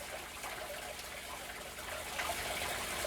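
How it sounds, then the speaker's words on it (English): Water trickling and gushing steadily as a bag holding fish is slowly tipped upside down into a shrimp tank, a soft continuous pour that swells slightly near the end. "Now you just carefully invert that until that water goes in"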